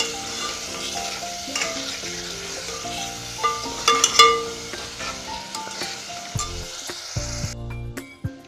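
Garlic and spinach mixture sautéing in a pan over heat, a continuous sizzle with stirring scrapes and a brief cluster of utensil clinks midway, the frying noise falling away near the end.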